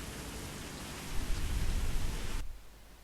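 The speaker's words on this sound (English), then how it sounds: "it was starting to rain, so I couldn't try anymore" Rain in The Crew video game makes a steady, broad hiss that swells louder midway, then drops off sharply near the end.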